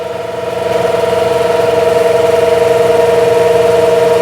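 A New Holland TL-90 diesel turbo tractor runs close by with its engine working under PTO load, giving a loud, steady, droning hum with a constant tonal whine that holds evenly throughout.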